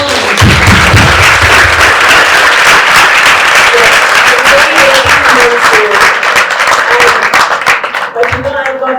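An audience at a fireside chat on the ATLAS campus applauds in a steady, dense wash of clapping that runs nearly the whole time, with a voice speaking over it and the clapping thinning toward the end.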